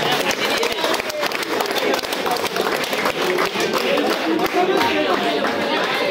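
Crowd applause and clapping at a cricket trophy opening ceremony, a dense, steady wash of claps and chatter that holds loud and unbroken throughout.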